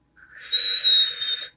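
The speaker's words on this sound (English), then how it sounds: "It whistles a good amount when there's nothing in there." An empty Genesis RDTA vape atomizer with three air holes lets out a steady, fairly loud airy whistle with a pure high tone, rising in for about a second and a quarter and then cutting off.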